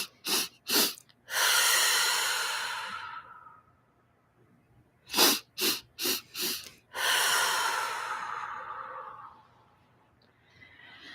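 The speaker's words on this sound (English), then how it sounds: "Let's take 2 more rounds of our 4 nasal breaths." Forceful nasal breaths taken during a guided meditation come in two rounds, each a few quick sharp sniffs followed by a long steady exhale, close and loud with silent gaps between.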